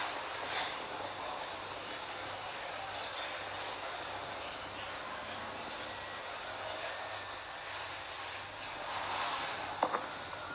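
A SpaceX Falcon 9 rocket climbs during ascent near max Q, its engines a steady, distant, broadband roar held at low level throughout, with a small rattle near the end.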